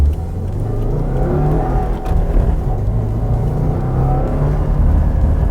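A 2017 Subaru WRX accelerating hard from inside the cabin, a loud, steady low engine drone with rising intake and road noise throughout, no talking.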